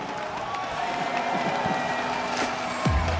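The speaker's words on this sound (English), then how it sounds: "And the crowd rooting for the underdog." A live crowd at the CRL World Finals 2025 esports elimination match cheers and applauds in a steady, dense roar that stays loud throughout, with a sharper swell near the end.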